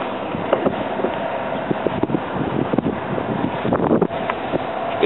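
Outdoor wind buffets a microphone beside a 2010 Hyundai Accent, a steady rushing roar broken by small bumps and rustles throughout.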